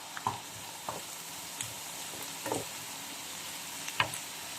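Garlic and shrimp frying in a pan, a soft steady sizzle with a few light stirring scrapes and clinks, fairly quiet and close, no talk.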